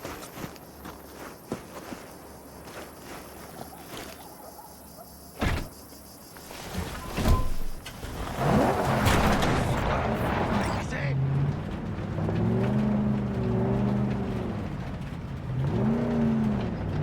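A car pulls up in the video game Cyberpunk 2077 played in VR, its engine droning and shifting pitch near the end, after footsteps and a door or window mechanism sound up close.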